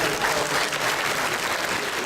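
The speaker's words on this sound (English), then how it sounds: "please help me to give you a good round of applause for what you did" Steady, dense applause from an audience honoring veterans at an outdoor Korean War armistice memorial ceremony at the Meadowvale memorial wall, sustained evenly throughout at a moderate, close level.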